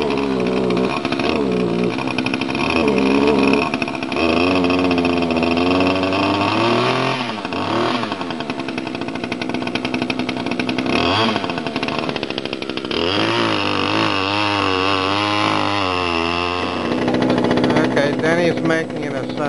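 A loud engine revs while warming up, its pitch swelling and dropping in repeated surges, with people talking over the running motor.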